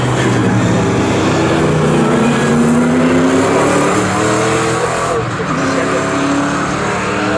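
Touring and sports cars such as a BMW race on the Snetterton circuit in an MSVR All-Comers and ASCAR event, engines roaring loud and continuous as they pass, with a commentator talking over the racing noise.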